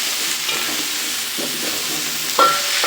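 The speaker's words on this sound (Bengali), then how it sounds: "বন্ধুরা ফুলকপি ভাজা হয়ে গেছে" Cauliflower frying in a pan gives a steady, close, hissing sizzle throughout, with a brief metallic clink near the end and no voices.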